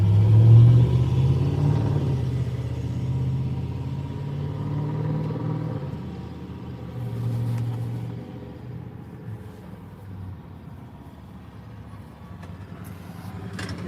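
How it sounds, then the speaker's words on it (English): A loud straight-piped car rumbles past on an Oklahoma City street, its deep exhaust growl swelling then fading, followed by a second, quieter pass under the low night traffic noise. "I don't think any other vehicle sounds good straight piped"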